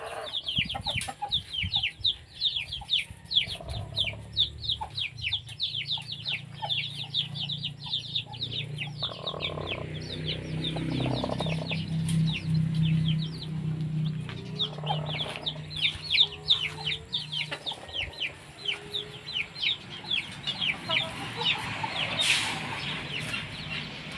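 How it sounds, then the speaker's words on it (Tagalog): Chickens on a Caviteño farm in summer cluck and chatter continuously, with repeated short calls over a low background rumble across more than twenty seconds. "Yan po yung mga manok natin."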